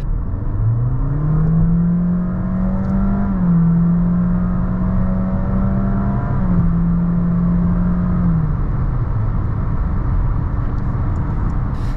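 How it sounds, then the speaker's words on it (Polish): A Honda HR-V 1.5 i-MMD e-CVT hybrid's petrol engine drones and whines as it accelerates, the rising pitch holding steady and climbing again like a slipping clutch, with constant road and suspension rumble underneath. "Podczas przyspieszania silnik spalinowy mocno słychać i wydaje on dźwięk, jakby wył"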